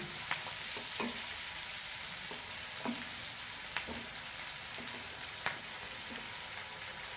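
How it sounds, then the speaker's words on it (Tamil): Onions sautéing with salt in a pan for a village-style vanjiram fish curry, a steady close sizzle with occasional stirring clicks and scrapes, no talking. "எல்லாமே நல்லா வதங்கட்டும் வதங்கிறதுக்கு உப்பு சேர்த்துக்கிறேன்"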